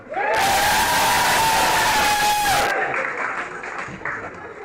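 A festival audience bursts into loud cheering and screaming, a dense roar of voices that holds steady, then cuts off abruptly and leaves scattered quieter shouts and chatter.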